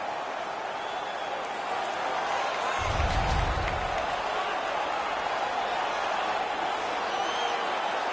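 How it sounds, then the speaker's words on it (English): Arena crowd in the NHL 19 hockey video game, at a United States versus Canada game just after a fight: a constant, dense roar of cheering that stays loud throughout, with a brief low thump partway through. "The crowd is so pumped right now."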